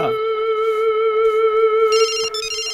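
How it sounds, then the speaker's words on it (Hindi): A phone ringtone sounds for an incoming call, a steady sustained electronic tone, loud and close, that shifts to a brighter layered chime near the end. "ला इनका महबूबा के फोनो आ गई"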